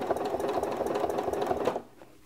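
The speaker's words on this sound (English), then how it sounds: "You never want to be stitching along and not have your hand next to where that needle is going up and down" A sewing machine stitches quilt lines along a ruler, its needle running in a fast steady whir close by, then stopping near the end, with no talking.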